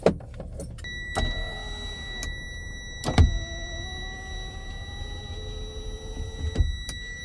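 Power window motor in the driver's door of a Freightliner semi truck whirs in several separate runs, each a steady electric drone that starts and stops with a clunk, close by with no talking.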